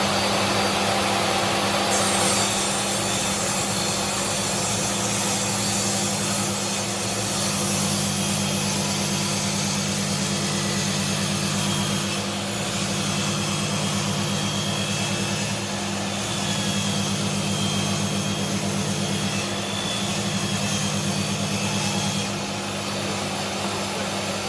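A power saw blade cuts steadily through timber during a garden studio build, a loud continuous motor whine with a dense buzzing roar that holds for the whole stretch without pause.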